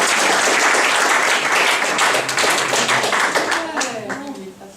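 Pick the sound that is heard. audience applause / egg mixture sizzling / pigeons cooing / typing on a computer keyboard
audience applause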